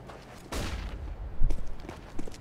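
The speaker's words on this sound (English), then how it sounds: "Throwing flashbang." A flashbang grenade goes off in the game CS:GO with a sharp burst, followed by scattered gunfire and clatter under a faint game soundscape.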